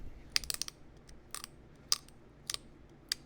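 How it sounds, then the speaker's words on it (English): A pressure flaker rolls along the edge of a large mahogany obsidian point, making sharp, bright clicks and snaps in irregular bursts, some in quick pairs, heard close and alone. "Just kind of roll the edge of my pressure flaker along the side."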